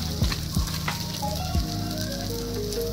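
Jowar roti laid onto a hot pan gives a steady, close sizzle with a few soft thumps near the start and a low hum underneath, with no talk.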